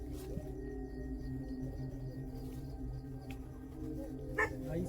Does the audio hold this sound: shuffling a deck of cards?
no